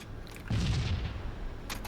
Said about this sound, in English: Last grenade. This is it.